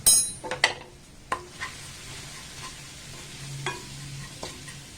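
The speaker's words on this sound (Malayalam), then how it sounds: "അല്പനേരം ഒന്ന് ഇളക്കി കൊടുക്കാം" A spoon stirs chili and turmeric powder into a gooseberry pickle in a pan, with a few sharp clinks and scrapes early on, then sparser stirring over a faint sizzle, with no talking.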